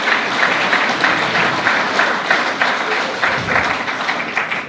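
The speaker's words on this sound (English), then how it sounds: "Let's give a big round of applause for Ira." Loud, continuous applause from an audience at an evening awards ceremony honoring unsung heroes and a citizen of the year, many hands clapping close by with slight swells and dips.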